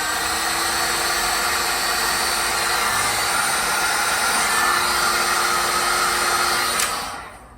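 A heat gun or hot-air blower is run continuously to shrink heat-shrink tubing over wires during refrigeration equipment work, a loud, steady whooshing fan roar with a faint whine that cuts off at the end.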